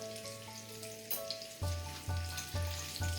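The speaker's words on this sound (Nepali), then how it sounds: "यसलाई चाहिँ 1-2 मिनट जति हाई हिटमा यतिकै चलाउँदै फ्राई गर्नुपर्छ।" Red and green capsicum chunks stir-fried over high heat, a steady sizzle broken by a few scraping stirs of the pan in the last half, close and fairly quiet with no talk.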